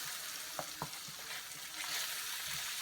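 Onion and tomato paste fry with spices in oil for a malai kofta gravy. A steady sizzle runs throughout while a spoon stirs and scrapes the pan in a few soft, irregular strokes, close by and with no voices.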